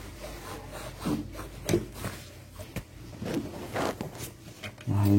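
A motor bushing is rubbed clean by hand, with scattered, uneven scrubbing and scraping strokes at close range that grow louder toward the end.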